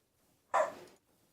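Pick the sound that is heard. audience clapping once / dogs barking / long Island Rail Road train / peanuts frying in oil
dogs barking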